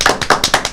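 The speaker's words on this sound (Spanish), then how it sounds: "Démosles un caluroso aplauso como bienvenida." Brief, loud burst of hand claps as welcoming applause for a guest speaker at a talk on corruption and money laundering, a handful of sharp, close claps in quick succession.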